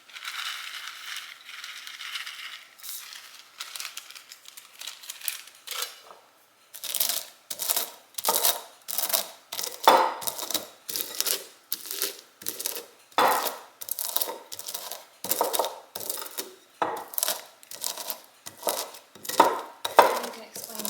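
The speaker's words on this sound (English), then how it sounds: "So I'm grinding these up because I want to get the cloves all broken up to release all of their flavor" Whole cloves are crushed in a mortar and pestle while preparing pear wine. The pestle strikes and grinds in a steady run of sharp, close crunching knocks, after a brief pause and with light background noise.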